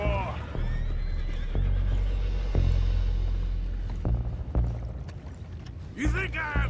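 Horses in the video game Red Dead Redemption 2 whinny and neigh repeatedly over a busy scene of hoofbeats, clanking mechanisms and water, with a loud, shrill neigh near the end.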